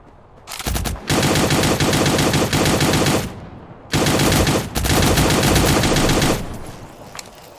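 Loud sustained bursts of rapid automatic gunfire in the video game Cyber Hunter, two long volleys separated by a brief pause, then fading off at the end.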